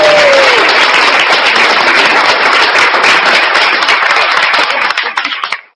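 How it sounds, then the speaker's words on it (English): Loud, close applause from a crowd, dense steady clapping that holds for several seconds before cutting off abruptly, with a brief voice at the very start. "Clap for the Moors. The Moors Applaud."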